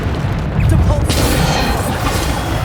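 A Depulsor spell cast in Hogwarts Legacy bursts out as a loud, dense crashing impact over a rumbling game soundscape, with a brief voice in the mix.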